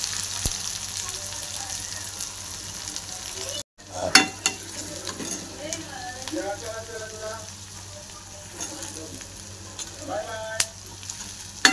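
Brinjal, potato and onion stir-fry in hot oil in a kadhai, a steady close sizzle with scraping spatula strokes and clinks, broken by one short gap, and a voice talks faintly in places.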